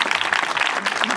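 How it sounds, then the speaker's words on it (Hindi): Congregation applauds loudly during a sermon, a thick burst of many hands clapping close by, with voices mixed into the clamor. "जोरदार तालियां बजाइए"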